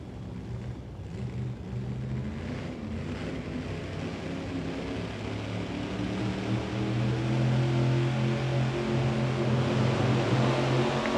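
AA gas drag racing cars at a hot rod reunion event give a low, broad engine roar from a distance that builds steadily louder toward the end as the revs climb, with no speech heard.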